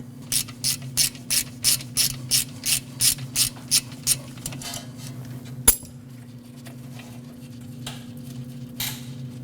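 A hand ratchet spins a 10mm bracket nut off the rear inner brake hose on a 2014-2023 Jeep Cherokee, giving a close run of about a dozen quick, evenly spaced clicking bursts, then one sharp metallic knock and quieter handling.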